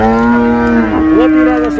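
A cow at a cattle market gives a long, loud, close moo that bends in pitch partway through, filling the whole moment with no talking over it.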